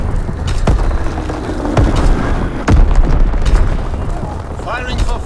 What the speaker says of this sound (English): Dropping Blitz-X bomb!